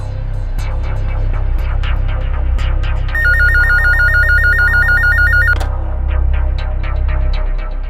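A telephone rings with a loud electronic trilling tone in short repeated bursts, set over a low droning hum and punctuated by soft tapping clicks, with no one speaking.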